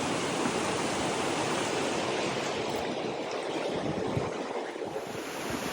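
Steady, loud rush of river water flowing past during a kayak run near a Colombian mountain town, a continuous broadband roar with no breaks.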